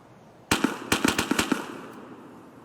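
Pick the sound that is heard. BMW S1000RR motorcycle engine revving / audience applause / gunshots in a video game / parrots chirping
gunshots in a video game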